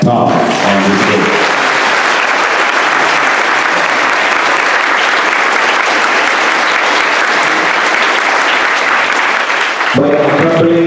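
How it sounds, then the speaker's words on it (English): Loud, dense applause from a church audience at a consecration thanksgiving gathering, continuous clapping filling nearly the whole stretch before a voice returns at the end. "it is good to give a thunderous clap to every one of you, especially to Father Thomas on this day."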